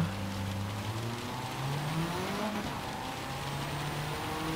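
Renault Clio road car in Gran Turismo 7 at Le Mans in the rain, its engine held at low steady revs with a droning hum, rain and track noise underneath, continuous throughout.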